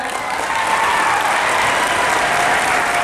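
Loud, dense applause fills a school event at Dere School in Sangamner, honouring a teacher named Rahul Jadhav; steady, sustained clapping from a large crowd runs throughout with no pauses.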